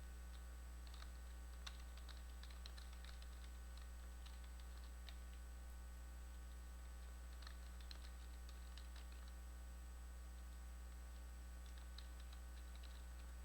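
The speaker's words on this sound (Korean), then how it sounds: "엔터 하나하나 치면서 네, 이렇게 입력을 해주시고" Keys on a computer keyboard are tapped in short, faint clusters of clicks, with single presses like the Enter key, over a steady low electrical hum in a quiet room.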